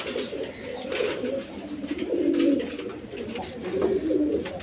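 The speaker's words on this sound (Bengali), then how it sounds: "দর্শক এখানে এক জোড়া গিরিবাজ কবুতর আছে, কালারিং গিরিবাজ" A pair of colourful Giribaz pigeons, a green-necked male and a blue-eyed female, coo nearby in repeated low, rolling bursts that rise and fall through the moment.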